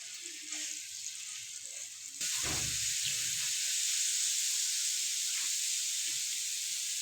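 Garlic ginger paste dropped into hot cooking oil on a tawa sets off a sudden loud, steady sizzle that persists close up after a quieter hiss, with no talking.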